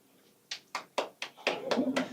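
Scattered sharp claps from a comedy club audience at a French stand-up debut, a few single hits spaced apart that quickly thicken into a denser patter of applause.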